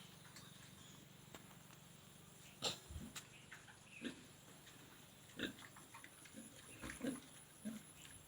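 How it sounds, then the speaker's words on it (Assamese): A pig feeds on banana leaves, with faint intermittent grunts, chewing and rustling sounds heard at low level outdoors. "এই গাহৰিটো কেনেকৈ কলপাত খাই আছে।"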